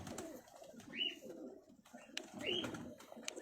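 Pigeons, Dab and Missay breeds, cooing softly in a loft, with two short rising calls amid low murmuring and faint background rustle.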